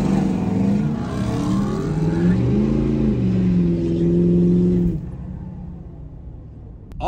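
A tuned 6.7 Powerstroke truck and a 700 hp RAM TRX Hellcat accelerating hard from a stop, loud rising engine roar climbing in pitch for about five seconds before dropping off sharply.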